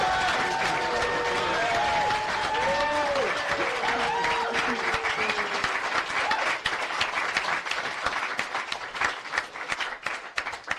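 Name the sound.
audience applause at a live podcast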